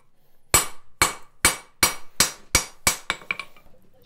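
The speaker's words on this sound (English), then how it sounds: "I'm right in the middle of forging myself a 2-inch wide pitching chisel" A hammer forges a 2-inch-wide steel stonecutter's pitching chisel: seven loud, ringing blows at an even pace, then a run of lighter, quicker taps.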